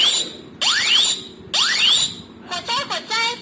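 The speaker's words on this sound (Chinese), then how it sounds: "让大家听一下有这个声音表示如果他侦测到烟发生火灾了" A residential smoke alarm under test sounds loud, close rising whoops in two sweeps, followed by a rapid run of short electronic chirps, with no talking over it.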